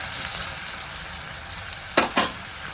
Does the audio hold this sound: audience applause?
no